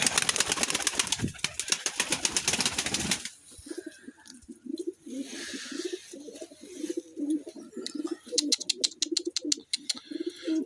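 Pigeons coo in a loft with newly hatched chicks, low repeated throaty coos continuing close by, with a burst of wing flapping and rustling at the start.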